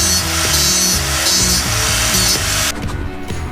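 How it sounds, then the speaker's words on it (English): Sanding the base of a café racer motorcycle seat flat with a power sander, a loud continuous buzzing grind with pulsing strokes that stops abruptly near the end. "Now I'm going to sand this down flat so that the Velcro sticks to it better."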